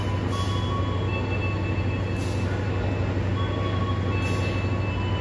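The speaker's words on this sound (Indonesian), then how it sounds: "Kereta api Bengawan diberangkatkan dari stasiun Lempuyangan pukul 21 lebih 25 menit" Bengawan economy-class train departing Lempuyangan station at night, a steady low rumble of rolling stock with faint high tonal whines and periodic hissing bursts, continuous and moderately near.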